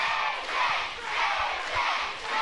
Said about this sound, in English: Listen to this crowd, guys.